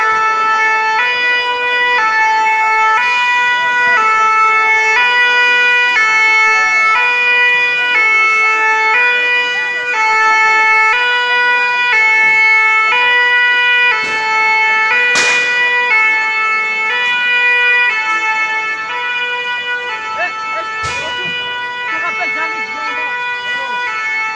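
Fire engine sirens wail loudly and continuously in a two-tone pattern on Avenue Foch, Paris, during a yellow vest protest, with a few sharp bangs cutting through and voices faintly beneath.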